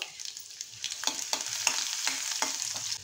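Mustard seeds and crushed garlic crackling in hot oil, a dense sizzle with sharp popping bursts as the seeds split, close and lively with no talk.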